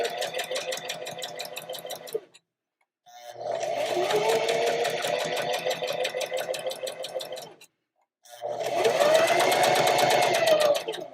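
A sewing machine stitches a half-inch seam in three steady runs of even mechanical whirring, each a few seconds long and separated by brief pauses, close up with no talking.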